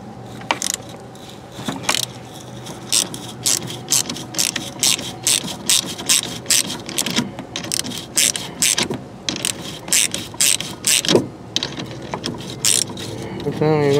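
A hand ratchet wrench clicks rapidly in bursts while working on a bolt under the hood of a 2012 GMC Yukon Denali, close and loud, with pauses between strokes and some clanking of tools.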